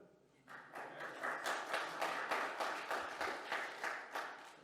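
A lone man clapping among an audience at a parish men's night, steady rhythmic claps with a brief quieter lead-in, moderately distant in a hall.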